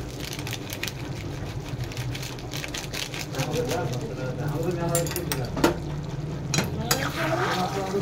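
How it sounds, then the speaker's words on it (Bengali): A mixed vegetable curry with potato, ghee and garam masala being stirred in a pan, producing irregular scraping and clinking of a spoon against metal over a faint sizzle, while a voice talks over it. "নেড়ে চেড়ে নিলাম।"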